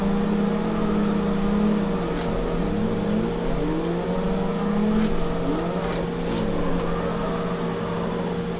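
A drift car's engine in Assetto Corsa revs hard and steadily through a clutch-kick drift, loud and continuous with pitch rising and falling as the throttle works, with no voices.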